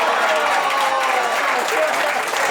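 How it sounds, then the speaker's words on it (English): An audience at a comedy show at a private party in Rialto, California claps steadily, a loud, even wash of applause filling the short moment with no distinct voices. "Bruce Jingles, guys, clap it up"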